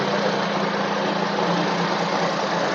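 A 2010 Maruti Alto LXi engine idles with a steady, even hum and faint vibration, unchanging and close by, with no voices.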